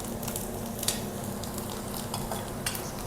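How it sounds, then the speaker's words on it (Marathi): A spoon stirs turmeric into sautéed onions in a pan for shevai upma, producing continuous scraping and stirring over a soft sizzle, with a couple of sharper utensil clinks and no talking. "कांदा हलकासा सोनेरी रंग येईपर्यंत परतला की त्यामध्ये आता हळद टाकून घेऊयात। छान मिसळून घेऊयात।"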